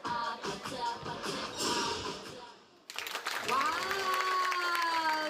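Audience applause following a face-changing stage performance, a steady wash of clapping with an excited exclamation, then giving way abruptly to bright music.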